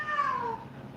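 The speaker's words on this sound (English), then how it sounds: "if you're hearing sounds, that's my cat" A house cat gives a single drawn-out meow with a falling pitch, close by and fairly clear over a faint background hiss, with no one talking.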